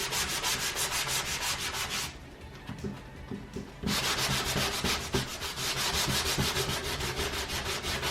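Sanding strokes rub across a painted wooden sign to distress it, working around the edges so bare wood shows through; steady, loud, continuous scraping with a brief quieter pause midway, no talking.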